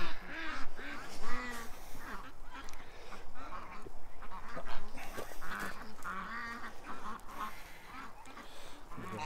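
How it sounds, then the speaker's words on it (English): Ducks and geese at feeding time raise a loud, continuous din of overlapping quacks and honks, close and crowded, with a voice faintly mixed in. "Let's do the duck feed."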